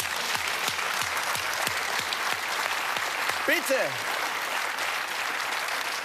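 A studio audience at a German television comedy show applauds in a dense, steady roar that runs throughout, with a voice briefly speaking over it.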